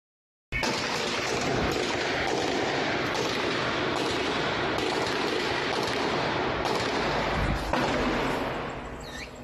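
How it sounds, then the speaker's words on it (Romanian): Heavy gunfire from an attack in Munich crackles in a dense, continuous barrage of shots, loud and sustained for several seconds before fading slightly at the end. "O înregistrare video care circulă pe rețelele sociale pare să arate un schimb intens de focuri"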